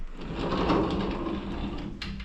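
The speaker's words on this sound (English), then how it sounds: "Sliding door, pocket door." A sliding pocket door in a castle-themed hotel room rolls open or shut, a continuous close rumbling slide lasting about two seconds with a faint click near the end.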